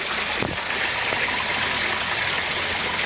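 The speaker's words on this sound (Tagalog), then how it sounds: "Pag may ganitong sapa, lalo na't malinaw yung tubig" A clear mountain stream flowing in the Bicol highlands, heard as a steady, broadband rush of running water up close, continuous and even in loudness, with no talk.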